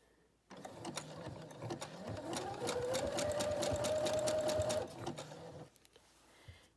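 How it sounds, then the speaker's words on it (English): A sewing machine runs a zigzag stitch along a window valance, whirring up quickly, holding a loud steady mechanical hum for about five seconds, then stopping, with brief faint handling noise on either side. "I'm going to sew that zigzag stitch going this way"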